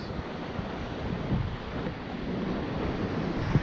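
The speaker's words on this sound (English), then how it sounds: "it's the Atlantic Ocean, my friends" Atlantic Ocean surf washes against a rocky shore near Portland, Maine, a steady, broad roar with wind buffeting the microphone throughout.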